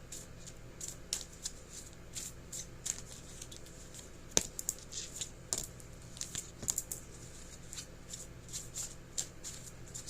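Moonology Oracle deck cards being shuffled by hand, soft riffling and papery flicks with scattered sharper snaps, quiet and close.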